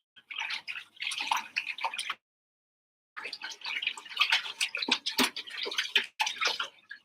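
A dirty cleaning cloth is rinsed in water, producing busy splashing and sloshing close by in two bursts separated by a second of silence, with no talking.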